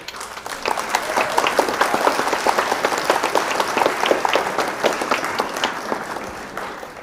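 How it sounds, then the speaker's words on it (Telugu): A small group claps together for a child who just sang, a dense, lively patter of many hands, close and steady for several seconds before tapering off. "ఒకసారి క్లాప్స్ కొట్టండి అందరూ"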